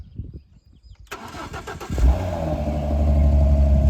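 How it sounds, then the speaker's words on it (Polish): A Ford Mustang engine starts with the key: a short cranking burst, then the engine catches and settles into a loud, steady, deep rumble close by. "Przykręcamy kluczyk i odpalamy, tak?"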